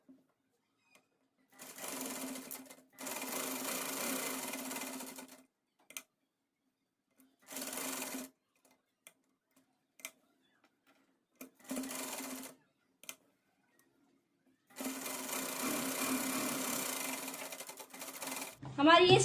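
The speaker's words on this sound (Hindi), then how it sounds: "अब इसके साइड से हम सिलाई लगा लेंगे।" Sewing machine stitching along the side of folded, pressed fabric for a child's Pathani suit, running in several bursts of steady whirring of varying length, separated by quiet pauses, with a low motor hum.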